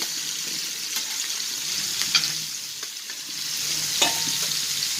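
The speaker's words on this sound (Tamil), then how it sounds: "அப்படியே மீன் ரோஸ்ட் ஆகட்டும்." Anchovies roast in coconut oil on a heavy tawa, giving a steady close sizzle throughout with a few sharp crackles and light scraping sounds.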